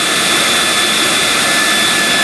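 A small electric ducted fan of the kind used in model aircraft spins at high speed, a loud, steady whooshing roar with a piercing high whine held throughout.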